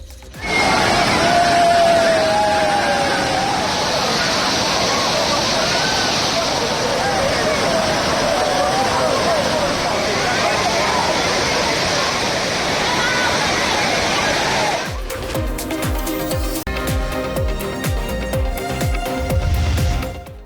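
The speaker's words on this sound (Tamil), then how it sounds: "திருப்பரப்பு அருவியில் ஆர்ப்பரித்து கொட்டும் தண்ணீரில் சுற்றுலா பயணிகள் குளித்து உற்சாகமடைந்தனர்" Water thunders down Thirparappu falls as tourists bathe beneath it, a loud, steady broadband roar that fills most of the clip before giving way to a choppier, clattering mix in the final seconds.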